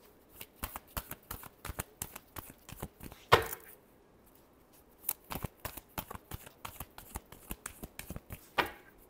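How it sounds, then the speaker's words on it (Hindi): Tarot cards being shuffled in quick, crisp riffling slaps, a steady run of snaps, a brief pause after a louder burst, then more rapid shuffling near the microphone. "Last shuffle."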